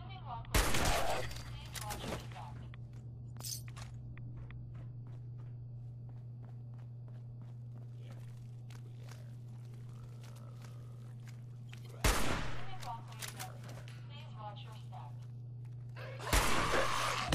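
Gunfire in the video game Fallout 4: a few sharp shots burst out near the start, around twelve seconds and again near the end, separated by quieter stretches of footsteps and a steady low hum.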